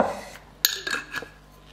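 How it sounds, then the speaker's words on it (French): Small coffee cup being filled in a home kitchen, heard as a few light ceramic clinks and taps with a soft pour between them, close and brief, with no talking. "je remplis une petite tasse à café"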